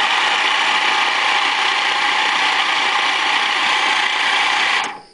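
An Enco milling machine with a worn gearbox runs loud and close, a steady whining mechanical drone that holds throughout and then winds down at the end.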